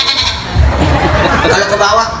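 A voice imitates the high, rising bleat of a goat kid, repeated bleating sounds made during a lively talk while an audience murmurs and laughs in the background.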